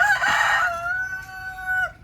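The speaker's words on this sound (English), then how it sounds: "I really enjoy my chickens" A rooster crows once, a loud, close, drawn-out cock-a-doodle-doo, with faint chicken clucking in a backyard run.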